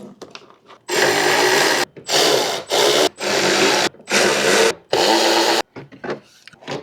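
A power tool tightens bolts on aftermarket offroad parts being installed on a Lexus GX460, with five loud, close bursts of whirring separated by short pauses and no talking.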